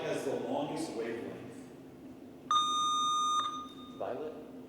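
At a spring quiz bowl preliminary match, a buzzer gives one steady electronic beep lasting about a second. Talk from the players comes before and after it.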